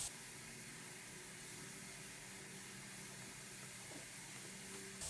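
Iwata airbrush hissing steadily and continuously at close range, a constant broadband spray sound with no talk, as it is used freehand to doodle tiny artwork.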